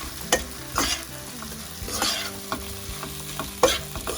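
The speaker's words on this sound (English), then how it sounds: "drop the flat rice we washed off. Give it a good mix." Washed flat rice (poha) stirred in a pan for an Indian breakfast, with a spoon scraping and clacking in several distinct strokes over a soft, steady sizzle, close and fairly loud, no voices.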